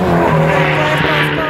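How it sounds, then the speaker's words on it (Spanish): Rally car approaching along a gravel stage of the Rally Colca in Arequipa, engine droning loud and steady with tyre noise and gravel hiss, a commentator's voice partly over it. "Coche a la vista, repuestos Corimoto. Aquí se va acercando."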